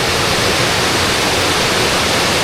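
Boiling water of the hottest river in Peru, a dense, loud, continuous hiss and rush of churning water, steady and close with no voices.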